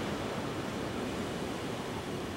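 Ocean surf rolls steadily onto a beach at Puerto Vallarta, a continuous broadband wash of breaking waves with no distinct pauses, fairly loud and close, with no voices.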